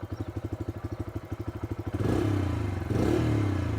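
A Bajaj Freedom CNG motorcycle's exhaust pulses steadily at idle, then the throttle is blipped to medium revs, the beat merging into a louder, quicker drone twice before settling.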